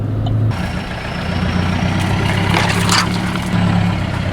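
A farm truck's engine runs at a steady low rumble, close and constant, with faint higher clatter passing over it and no talking.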